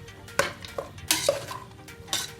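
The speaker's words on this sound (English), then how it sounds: "Then mix all this vegetable ones." A spoon stirs vegetables with garam masala and salt for a soya chunks biryani, making a few scraping clanks against the pot over a soft background sizzle.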